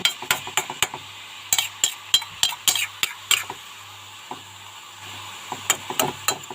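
Pineapple thoran pressed down and stirred in a pan, with a spoon knocking and scraping against the metal in quick irregular taps, close and fairly crisp over a low hum.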